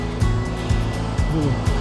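Seawater washes in at high tide beside a seaside jogging path, a close, continuous surging rush with a few heavier low swells rolling through.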